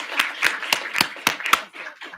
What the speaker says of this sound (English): let's give him an absent round of applause